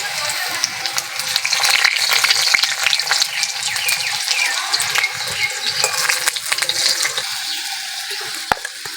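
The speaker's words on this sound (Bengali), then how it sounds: "আলুগুলো আলাদা করে ভেজে নিয়েছি আর তুলে নেব" New winter potatoes fry in oil in a kadai, making a continuous bright sizzle with scattered pops and occasional stirring clinks, steady and close throughout.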